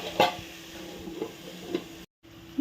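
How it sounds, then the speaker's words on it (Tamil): Beetroot frying in oil in a pan is stirred, giving a low steady sizzle with a few distinct scraping strokes, then a brief gap before the sizzle resumes. "பீட்ரூட் வதங்கும்போது அடிக்கடி ஓப்பன் பண்ணி இந்த மாதிரி நீங்கள் வந்து கிளறி விட்டே இருக்கணும்"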